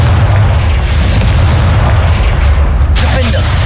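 A Confringo fire spell blast booms loudly through Hogwarts Legacy combat, a dense sustained rumble of low-end impact that holds steady for several seconds with a sharper burst near the end.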